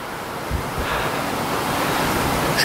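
Sea waves at a beach near a condo's swimming pool area, a continuous windy wash of surf rolling in at moderate loudness with a few soft thumps of wind against the microphone.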